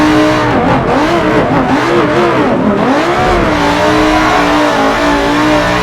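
A V10 car engine revs hard on a track, its pitch sweeping up and down through repeated throttle blips and shifts, loud, close and continuous, with no talking.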